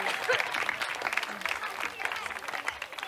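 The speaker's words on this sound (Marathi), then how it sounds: "टाळ्या ऐकू दे सगळ्या" Audience applause at a Home Minister prize ceremony held by a local friends' circle in Kupwad, a dense steady patter of many hands clapping close by for about three seconds with some crowd murmur mixed in.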